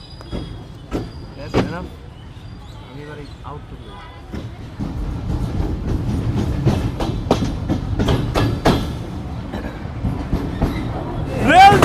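The Mongla commuter train rolls along with rhythmic clicks of wheels over rail joints, heard from the rear carriage in rain, the rumble building toward the end.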